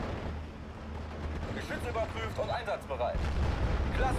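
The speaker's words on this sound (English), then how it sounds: "The Flak 36s are still busy firing." Flak 36 anti-aircraft guns fire in a Steel Division: Normandy 44 battle, with booming artillery reports and rumbling bursts under a murmur of voices.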